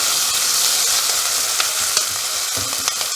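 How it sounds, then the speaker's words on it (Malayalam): Green chillies and spring onion whites stir-fried in a hot pan for chilli prawns, a steady dense sizzle with scattered clicks and scrapes of stirring, loud and close with no talk. "അതും ഒരു 15 സെക്കൻഡ് ഇളക്കി കൊടുക്കുക."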